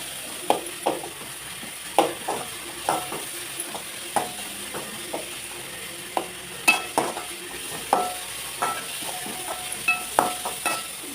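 A spoon stirs ginger paste into a sizzling mutton gravy in a pan, making repeated scraping strokes in an uneven rhythm over a soft, steady sizzle, with no talking.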